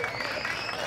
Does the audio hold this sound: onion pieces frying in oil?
no